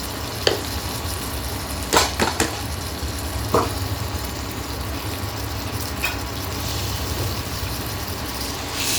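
Boiled taro pieces frying in a pan of spiced curry base, a steady sizzle with a few sharp clinks of a spatula against the pan, close and alone without talk.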